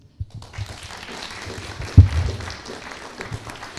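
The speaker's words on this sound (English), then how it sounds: "Another round of applause, please." An audience at a medical equipment launch claps in scattered applause, soft and somewhat distant, with one louder thump partway through and a low murmur beneath.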